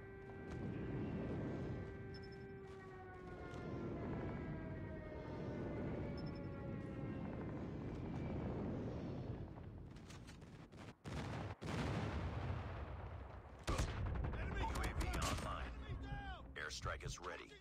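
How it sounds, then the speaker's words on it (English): A friendly airstrike in Call of Duty: Mobile: booming explosions and bursts of gunfire over a steady battle rumble, with a falling whistle early on and heavier blasts later, under game voice announcements. "Friendly airstrike incoming."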